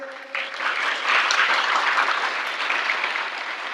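An audience at a motivational lecture breaks into steady, full applause, many hands clapping together at an even level throughout.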